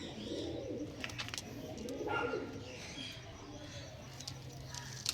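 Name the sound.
pigeons cooing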